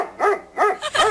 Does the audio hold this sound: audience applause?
no